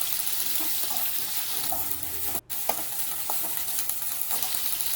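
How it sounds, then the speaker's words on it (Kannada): Okra frying in oil in a pan, a steady loud sizzle with occasional stirring scrapes and a brief dropout midway. "ಆಯಿಲ್ನ ನೀಟಾಗಿ ಫ್ರೈ ಮಾಡ್ಕೊಳ್ಳಿ."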